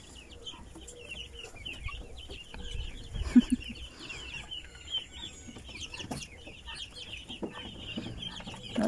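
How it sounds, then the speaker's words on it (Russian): A month-old black-skinned silkie chick clucks softly in a small coop. The chirps and clucks are quiet and scattered over a faint background, with a slightly louder burst partway through. "Вот такой шелковый цыпленок"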